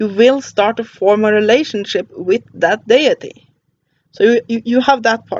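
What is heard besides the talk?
No distinct noise like a dog, phone or traffic.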